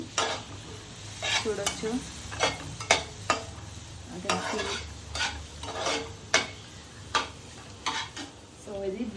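Food frying in a pan with a soft sizzle under repeated sharp scrapes and taps of a utensil stirring against the metal, while someone speaks briefly.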